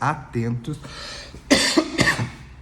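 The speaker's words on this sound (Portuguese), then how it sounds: "Eita tosse" Speech at first, then two or three loud, close coughs in quick succession.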